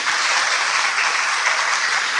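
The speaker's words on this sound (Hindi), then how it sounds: "तो अपने भाग्य के लिए तालियां तो बजाइए।" A large audience at a Brahma Kumaris spiritual gathering in Shahabad Markanda bursts into steady, dense applause, a loud continuous wash of clapping with no talk over it.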